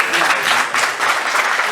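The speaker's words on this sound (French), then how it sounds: "Je pense que ça mérite des applaudissements." Loud, close applause fills a constitutive and electoral general assembly, a dense sustained clapping from the hall that swells and dips slightly without pause.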